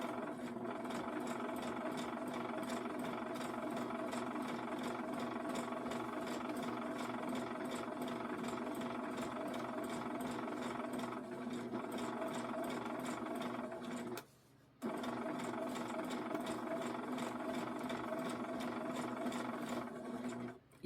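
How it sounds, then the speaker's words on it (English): A sewing machine stitches fabric around a pig's ear in a steady, continuous mechanical hum with a rapid needle rhythm. It stops briefly once, then starts again. "I'm going to sew around to the other ear so I don't waste thread"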